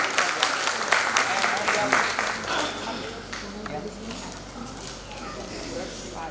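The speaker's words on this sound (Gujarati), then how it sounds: "આપણે તાળીઓના ગડગડાટથી એમનું સ્વાગત કરીશું" An audience claps to welcome a guest onto the stage at a matrimonial gathering, a burst of many hands that is strongest at first and then thins into scattered clapping, heard under a voice talking.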